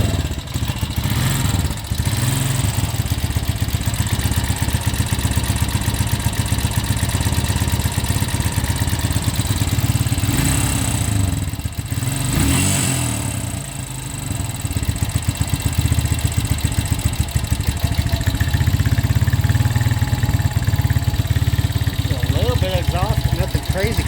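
A 2001 Honda Rancher 350 ATV, freshly given a top end rebuild, idles with a steady, close mechanical chug and light clatter for the whole stretch, while a person talks over it.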